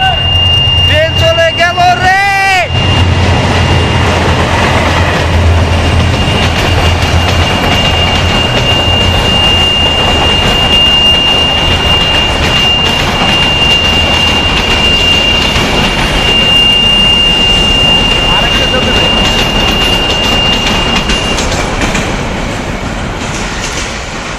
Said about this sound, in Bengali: ভাই ট্রেন আসতেছে ভাই